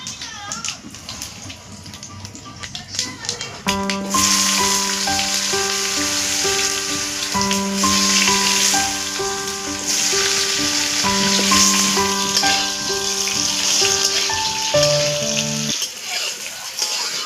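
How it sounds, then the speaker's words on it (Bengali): Steady sizzling of potatoes frying in hot oil over a wood fire runs throughout, with gentle background music joining partway through. "এবারে এই আলুগুলো ভেজে নেব"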